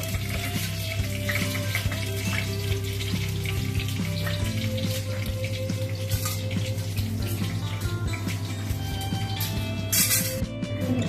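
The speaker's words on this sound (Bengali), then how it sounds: "এবার গরম তেলের মধ্যে একটু গোটা ধনে, গোলমরিচ, গরম মশলা দিয়ে দেওয়া হচ্ছে" Whole coriander, black pepper, garam masala, star anise and bay leaf sizzle steadily in hot oil for a green chicken dish, a dense crackling fry heard close up over a low steady hum.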